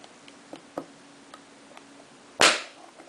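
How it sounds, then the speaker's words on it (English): S-mine 35 fuze (S Mi Z 35) firing under downward pressure: a few faint small ticks and clicks, then one sharp, loud snapping crack close by that quickly fades. "So you can hear it fire when I push down hard enough here."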